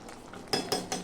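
Soybean curry with ghee and garam masala stirred in a metal pot, three quick clinking spoon strikes against the pan over a faint low hum, close and brief.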